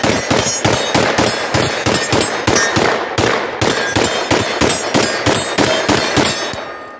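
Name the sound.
gunshots from a Turkish MKE AP5 MP5 clone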